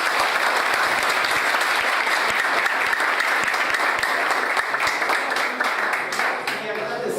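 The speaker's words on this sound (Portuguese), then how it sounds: "É que é uma salva de palmas" Loud, sustained audience applause with many hands clapping at once, easing slightly toward the end.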